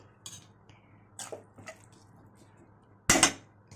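Half a small glass of water splashes into a hot cooking pan of cauliflower and potato masala, a single short loud hiss and splash near the end after quiet clinks and kitchen handling.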